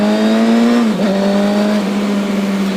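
A Honda CBF600 motorcycle fitted with an open aftermarket exhaust idles with a loud, steady, buzzy drone, dipping briefly, then blipping as the throttle is revved near the listener.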